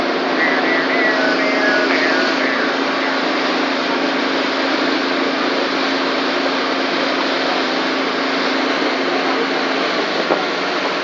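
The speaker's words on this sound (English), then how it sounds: "She's a cutter suction dredge that's been working out here for 70 years." A 70-year-old cutter suction dredge working on a canal gives off a steady, loud mechanical drone with a broad noisy hum, continuous and unbroken throughout.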